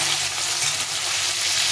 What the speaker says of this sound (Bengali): মাছটা এক পাশে ভাজা হয়ে গেছে, আমি উল্টো পাল্টে ভেজে দিতে হবে।